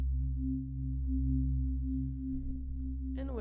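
A steady, low synthesizer tone in Cubase hums on alone, with a brief chirpy rise near the end.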